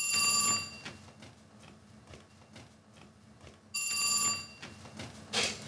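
Ringback tone of an outgoing telephone call to a house, two long bursts of ringing separated by a gap of line silence, clear and close.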